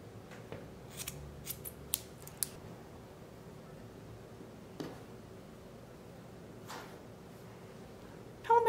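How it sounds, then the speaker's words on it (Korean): Scissors snip leftover macrame cord short after a double knot on a tassel garland, giving a handful of crisp, close snips in the first few seconds, then a single cut near five seconds and another near seven, in a quiet room. "이렇게 두 번 묶어준 뒤에 남은 끈을 짧게 잘라줍니다."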